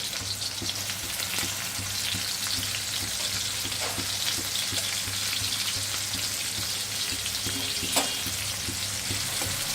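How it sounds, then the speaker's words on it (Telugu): Onions and green chillies frying lightly in oil in a pan for mutton curry, a continuous close hiss and crackle with occasional stirring clinks. "దీంట్లో ఆనియన్స్, పచ్చిమిర్చి వేసుకొని కొంచెం లైట్గా ఫ్రై చేసుకోవాలి"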